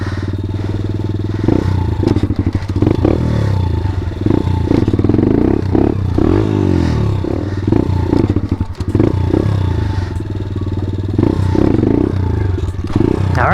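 A pit bike engine revs hard and continuously during wheelie practice, its loud raspy roar rising and falling with throttle blips, heard close up with a rattling, clattery edge.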